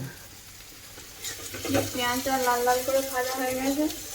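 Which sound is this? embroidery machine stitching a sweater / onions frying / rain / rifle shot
onions frying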